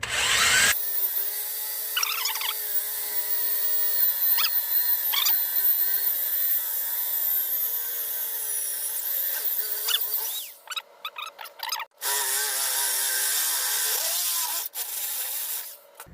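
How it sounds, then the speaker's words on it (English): A power drill bores a hole in a bag mount for a 1964 Oldsmobile Dynamic 88, running steadily for a long stretch with a high whine, briefly cutting out near the end before resuming, with a few small knocks along the way. "So I'm hoping this one will just drill through."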